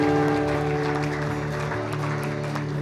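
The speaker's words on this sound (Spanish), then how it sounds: "Dale un aplauso fuerte al Rey" A congregation at a live worship service claps steadily and loudly, the applause blending with music playing underneath throughout.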